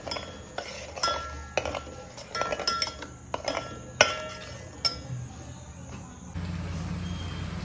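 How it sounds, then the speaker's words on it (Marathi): A metal spoon stirs dry masala paste into gravy for matar paneer in a pan, making a series of sharp, irregular clinks and scrapes close by, followed by a softer steady sizzle near the end. "ड्राय मसाला तयार केलेली पेस्ट टाकून ढवळून घ्यावी"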